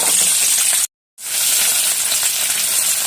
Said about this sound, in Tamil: பூண்டு இஞ்சி புளி மிளகாய் எல்லாமே நான் வந்து இப்போ எண்ணெயில் வறுத்துக்க போகிறேன்